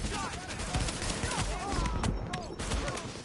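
A heavy gun in The Division video game fires in a dense, continuous rattling barrage of rapid shots, loud and close, with game effects layered over it.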